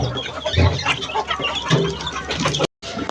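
Chickens feeding on grain make a busy, close chorus of clucks and squawks, with scratching noise beneath and a brief dropout near the end.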